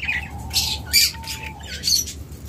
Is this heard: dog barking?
no